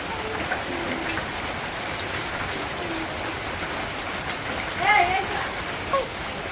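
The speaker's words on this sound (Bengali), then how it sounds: "কেমন বৃষ্টি দিয়ে তাহলে একটু জোরেই নাম" Heavy rain pouring down steadily, a dense continuous wash of falling water with a few faint bird calls briefly rising near the end.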